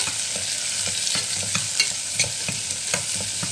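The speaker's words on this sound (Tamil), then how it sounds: "அதுக்கப்புறம் கட் பண்ணி வச்சுருக்கிற ஆனியன் அதில் சேர்த்துக்க போகிறேன். ஆனியன் வந்து நல்லா வதங்கட்டும்." Onions frying in oil with cinnamon and cloves for fish biryani, a loud continuous close sizzle with regular spatula stirring strokes throughout and no talking.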